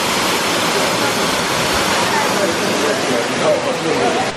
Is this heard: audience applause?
no